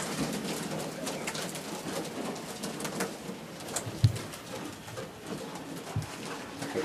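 Pigeons coo steadily inside a dim pigeon loft, making a continuous soft murmur with a few sharp thumps and flutters.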